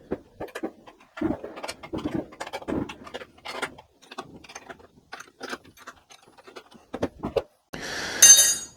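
Metal clicks, ratcheting and clinks from adjusting the rear axle chain slack on a Harley-Davidson Pan America motorcycle, close and intermittent with short gaps, ending in a brief harsh burst.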